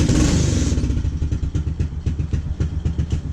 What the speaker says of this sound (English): Look at this upgraded plastic muffler.